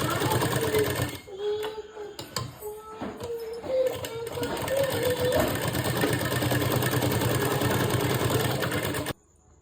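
A sewing machine stitches two layers of blouse fabric, a steady mechanical whirring chatter that runs in bursts with brief pauses, close and fairly loud, ending abruptly near the close.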